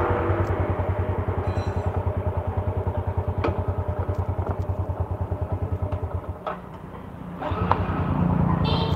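A Yamaha Jupiter Z motorcycle engine idles close by with a steady fast pulsing putter, dipping briefly near the end before revving back up with some mechanical clatter.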